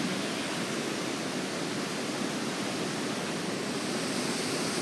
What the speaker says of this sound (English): It's always music to my ear to hear water.